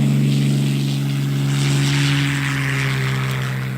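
Fairey Fulmar propeller aircraft in archival wartime footage with the Royal Navy off Norway, a steady loud droning engine hum with strong low tones holding throughout, no voices.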